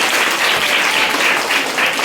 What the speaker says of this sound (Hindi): उसके लिए एक बार हम लोग ताली बजा दें सौम्या मैम के नाम पर